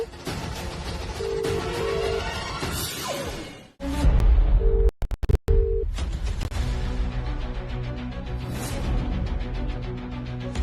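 An unanswered phone call in a Hindi drama scene, with repeated electronic ringback beeps and a telephone tone sounding over music, broken by a sudden cut and a few abrupt clicks midway.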